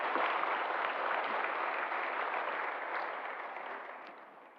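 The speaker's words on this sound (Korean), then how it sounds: "큰 박수로 축하해 주시기 바랍니다" A church congregation breaks into big, sustained applause to congratulate a scholarship recipient, a dense wash of many hands that holds steady and then slowly fades, with no talking over it.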